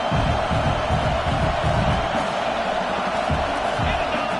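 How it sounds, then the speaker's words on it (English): A big football stadium crowd at a college game between an NCAA side and Miami roars steadily near the goal line, a dense sustained wash of cheering and noise with murmured voices throughout. "this big crowd doing everything possible to inspire this defense down here near the goal line"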